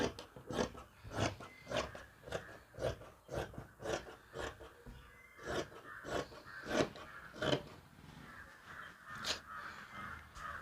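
Scissors cut through fabric for a churidar, snipping in a steady series of crisp rasping strokes close by with no talk.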